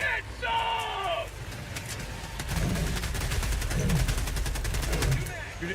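Rapid automatic gunfire from the Helldivers 2 video game, sustained bursts of shots under a player talking, with a brief electronic tone near the start.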